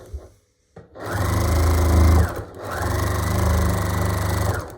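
Sewing machine stitching down the folded hem of a fabric drawstring gift bag, two steady close bursts of motor hum and needle chatter split by a short pause.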